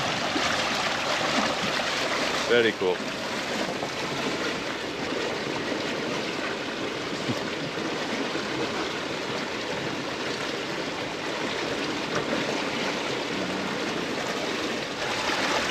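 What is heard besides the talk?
water noise behind a quiet electric dinghy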